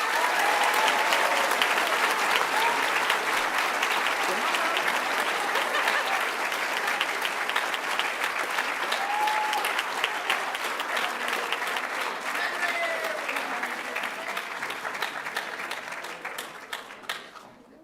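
A middle school promotion-night audience applauds two award recipients, a long, even roar of clapping from a large crowd that holds steady for over fifteen seconds before fading out.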